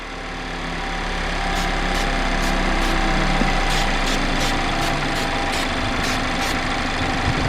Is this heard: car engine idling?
yes